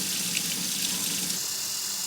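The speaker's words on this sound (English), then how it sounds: "our dinner beans are going in this pot, and I'm going to be adding some hot water" Hot water runs steadily from a tap into a cooking pot of Anasazi beans, a continuous close splashing hiss that lasts throughout.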